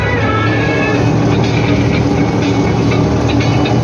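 An old crop sprayer drives across a grain field spraying Tezis fungicide mixed with insecticide against fusarium and pests, its engine giving a loud, steady, continuous drone with a rattling mechanical texture and no talk.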